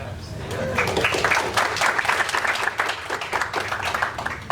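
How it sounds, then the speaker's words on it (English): Applause from a school board meeting audience for student representatives, moderately loud and fairly dense clapping that holds steady for several seconds with some voices mixed in. "Now applaud louder than that for our student reps."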